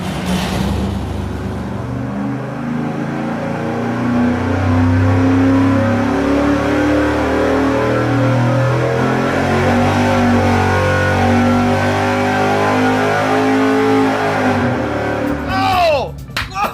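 A nitrous-fed 305 Chevy V8 roars at sustained high revs on an engine dyno, a loud, steady howl holding for about fifteen seconds before cutting off abruptly.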